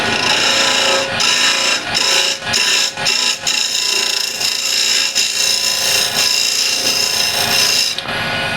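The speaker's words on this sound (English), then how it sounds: "scraper, and I'll just clean up the end grain here a little bit" A scraper cuts the end grain of a walnut burl box lid spinning on a wood lathe, a loud, close rasping scrape that comes in repeated strokes with short breaks between them.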